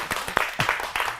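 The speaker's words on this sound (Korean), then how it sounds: "박수." Brief scattered applause from an audience at a startup talk, with a few claps standing out, fairly soft and short.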